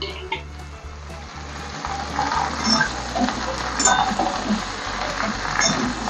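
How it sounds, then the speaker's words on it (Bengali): Vegetables for a Bengali bitter gourd curry sizzle and fry in hot oil while being stirred, a steady loud crackle with scraping stir strokes and a low hum underneath. "সবগুলোই একসঙ্গে তেলের মধ্যে নাড়িয়ে নিতে হবে।"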